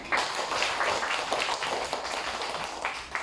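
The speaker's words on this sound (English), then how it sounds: "So clap your hands, everyone." Classroom students clapping together during a science class, dense steady applause from a group lasting a few seconds, fairly close and without talking.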